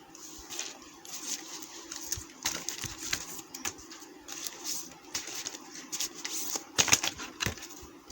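Tarot cards are shuffled and drawn close by: soft, irregular tapping and flicking patters come in uneven clusters, with a sharper snap of cards near the end.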